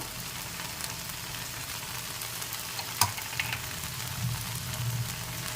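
Fish curry with chilli, coriander, Kashmiri chilli and turmeric powders cooks in a pan for a begun-mrigel jhol, giving a steady, soft sizzle and frying hiss with faint stirring scrapes and one brief clack.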